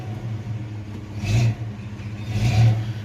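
A 1985 Chevrolet S10 pickup with a swapped-in 3-speed transmission pulls away: a low steady engine drone swells twice into short revving surges, close by, with no talk over it.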